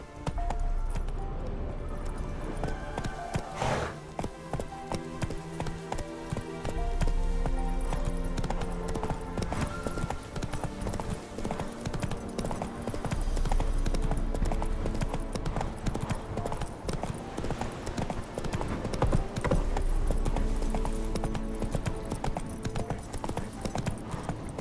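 Roach the horse galloping in The Witcher 3, a rapid continuous clip-clop of hooves under a full, busy game soundtrack, with a brief whinny and a few spoken words near the start.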